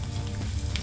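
Chillies drop into hot oil as a tempering for puliyogare gojju, following lentils, making a dense, crackling sizzle that stays close and steady throughout with no talking.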